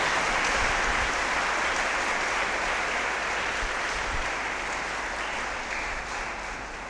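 A church congregation applauding during a Sunday Mass homily for Independence Day, a steady, dense wash of clapping from many hands that fades gradually over about seven seconds.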